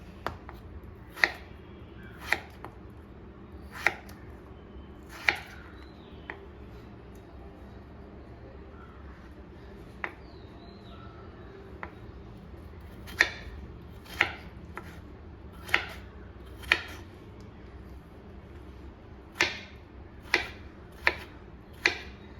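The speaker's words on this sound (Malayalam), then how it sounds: "ഇതിലേക്ക് നമ്മൾ രണ്ട് കിഴങ്ങാണ് എടുത്തിട്ടുള്ളത് അതും നമുക്കിതുപോലെ തന്നെ ക്യൂബായിട്ടൊന്ന് അരിഞ്ഞെടുക്കാം" A knife cuts potatoes into cubes on a cutting board for a Kerala-style kurma, giving about twenty sharp, close knocks. They come in uneven bursts with short pauses, over a low steady room hum.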